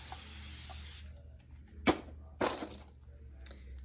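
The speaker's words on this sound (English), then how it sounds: "so I'm gonna spray" A hissing spray-bottle burst on hair during a perm at the start, followed by two sharp, quick spritzes a moment apart and a fainter one near the end, close by in a quiet room.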